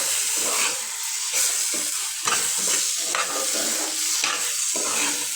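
Gram flour stirred and fried in a pan for paneer bhurji, close and continuous sizzling broken by rhythmic scraping strokes of the spatula, with no voices.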